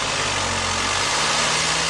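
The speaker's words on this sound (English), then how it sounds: "look at it idling" A Chevy Traverse engine idles with a clogged catalytic converter, giving a loud, close, steady drone with a rough, constant rumble and no break.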